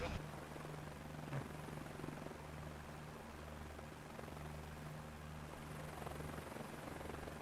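A helicopter drones steadily for the whole stretch, its rotor and engine forming a continuous, even hum of moderate loudness with no clear approach or fade.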